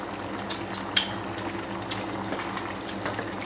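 Water being added to a pot of boiling pasta on the stove, a close watery bubbling hiss with a few small splashes and clinks over a steady low hum.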